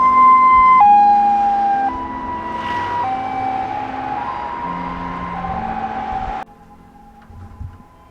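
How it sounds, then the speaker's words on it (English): A wailing ambulance siren cycles through high and low tones as it passes by fast, loud at first and then fading as it moves away, ending abruptly. "we could always hear the ambulance just passing by really"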